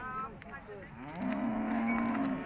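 Cattle moo at a livestock market: one long low bellow swells and holds, set against a busy outdoor market murmur.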